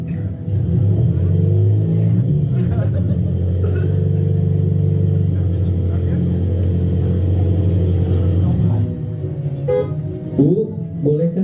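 A car engine sound effect plays loudly and steadily for about nine seconds in a church drama, with a low rumble that cuts off abruptly near the end, followed by brief faint noises.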